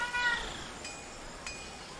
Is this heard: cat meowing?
yes